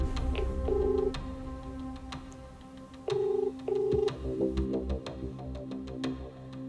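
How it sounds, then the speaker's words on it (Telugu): A telephone call going through, with repeated electronic ring tones in short bursts over faint background tones and clicks, heard close and with no talking. "రామకృష్ణ గారు ఒకసారి కాల్ చేస్తారండి."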